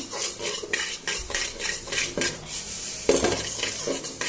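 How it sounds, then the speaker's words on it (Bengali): Black cumin seeds are dry-roasted over low heat and stirred in a pan, with a steady rhythm of scraping and rattling spatula strokes against metal, close and clear with no talk. "এখন জাল কমাইয়া কালি জিরাটা বাজ্যা নিম"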